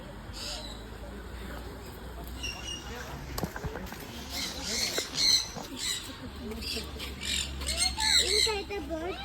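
A parrot with a white eye squawks in harsh bursts at SV Zoo in Tirupati, with other birds and people's voices mixed into a busy outdoor background.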